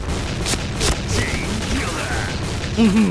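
Explosions and gunfire in the online shooter Point Blank, a dense burst of booms and shots with sharp transients, loud and steady throughout, with a player's voice talking over the action.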